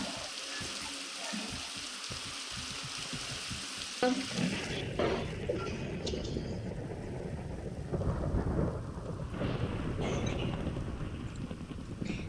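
Steady rain pours down in Minecraft. Thunder rumbles and cracks partway through and keeps rolling afterward.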